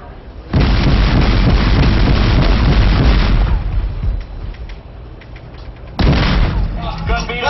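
A destroyer's naval gun fires during a firing run at sea, loud sustained boom and rumble for about three seconds, fading, then a second sharp blast near the end.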